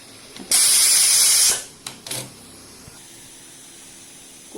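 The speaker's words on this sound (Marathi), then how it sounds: "कुकरची वाफ आपण काढून घ्यायचे" A pressure cooker releases a loud burst of hissing steam for about a second, then cuts off, followed by a couple of short, weaker hisses.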